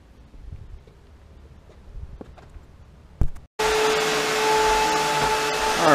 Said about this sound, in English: the place is getting vacuumed up with the Eureka